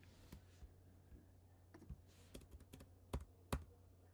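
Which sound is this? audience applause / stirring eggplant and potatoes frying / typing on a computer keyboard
typing on a computer keyboard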